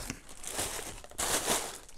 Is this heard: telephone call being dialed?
no